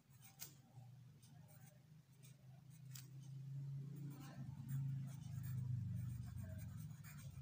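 A pen scratches across a page during a French lesson, making faint, intermittent scraping close by over a low, rumbling background hum.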